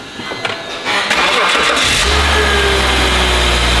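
A BMW E39 with the M package has its engine started: a starter whirs briefly and the engine catches, then settles into a loud, steady idle close by.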